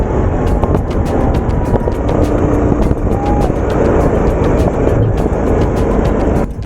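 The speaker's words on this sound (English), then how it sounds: "we were riding quad bikes on the public road through the" Quad bikes ride along a public road in Nadi, Fiji, their engines giving a loud, continuous close rumble mixed with wind buffeting throughout, and no clear speech.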